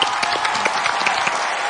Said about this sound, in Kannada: ನಿಜವಾಗ್ಲು ಬರೀ ಜೋರಾಗಿ ಚಪ್ಪಾಳೆ